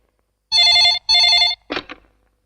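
A telephone rings twice in quick succession, each ring a loud, steady electronic trill, followed by a brief rustling sound as the call is picked up.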